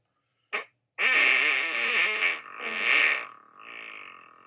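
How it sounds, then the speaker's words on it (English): Fart noises played back by Google Assistant: a short blurt, then a long buzzy, wavering raspberry lasting about three seconds that trails off quieter, loud and alone with no talking. "Here's fart noises."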